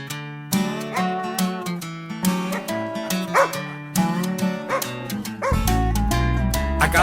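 Repeated dog barks, yips and whimpers sound over a bouncy musical backing in a children's song about dogs. Each bark is short, loud and close, breaking the tune at irregular intervals.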